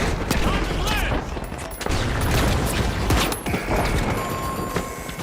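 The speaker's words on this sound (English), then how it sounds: "I think the other guy stepped in the mine and it blew me up." Mine explosion in The Finals: dense crackling blasts and rattling gunfire fill the whole stretch, with a louder burst near the middle, loud and close, under occasional game voice lines.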